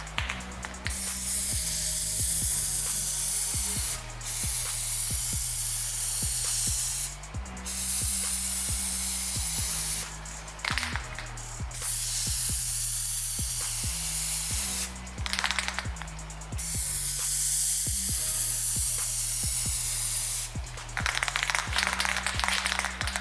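An aerosol can of Plasti Dip hisses in repeated bursts of several seconds each while coating a motorcycle, with short pauses and faint clicks and knocks between sprays, close and steady.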